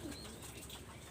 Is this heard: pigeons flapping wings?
yes